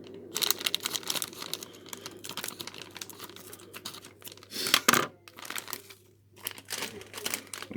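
A packet of light brown soft sugar rustles and crinkles as scissors cut across its top in a home kitchen, giving quiet close plastic crackles and snips in uneven bursts, one louder crunch midway.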